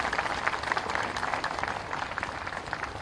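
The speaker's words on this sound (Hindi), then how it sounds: "एक बार जोरदार ताली से दुनिया भर के मातृत्व का सम्मान करिएगा" An audience at a talk claps in honour of motherhood, giving a dense wash of applause. The many hands blend into a steady roar at moderate loudness, with no voices over it.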